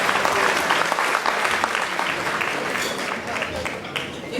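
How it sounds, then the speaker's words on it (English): Gala audience applause for an honoree, a full, continuous roar of clapping from a large crowd at steady high level, slightly ebbing toward the end. "give me a round of applause for Orlando Greene"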